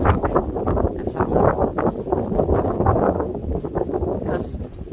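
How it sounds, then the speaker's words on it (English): Wind gusting through an empty truck with a tarp on a rainy, windy night, a steady rough rushing roar that swells and eases, loud and close to the microphone. "That's just the wind blowing in the truck. That sound."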